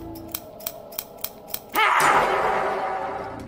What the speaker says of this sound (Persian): شنیدن صدای قیچیه که بارها و بارها شنیده میشه